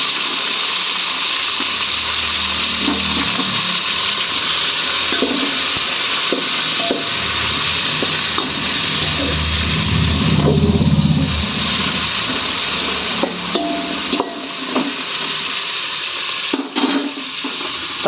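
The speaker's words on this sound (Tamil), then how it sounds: "வெங்காயம் நல்லா செவந்ததுக்கப்புறம் அடுத்தது தக்காளி லைட்டாக போடுங்க." Tomatoes frying in a pan with browned onions for a home chicken fry, a steady loud sizzle and hiss running throughout, with occasional scrapes and clinks of utensils against the pan.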